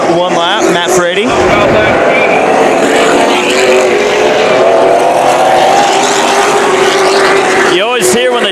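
Late model race cars circling a short track speedway in a 100-lap feature, a loud sustained engine roar with pass-by swells near the start and end of the clip.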